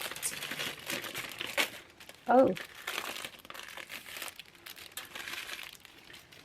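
Soft paper crinkling and rustling continues throughout, with a short exclamation from a voice in the middle.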